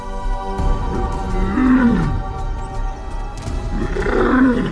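Lions roaring on the African savanna, deep rolling roars that rise and fall in long strained calls, one around the middle and another toward the end over a continuous low rumble, fairly close, no talking.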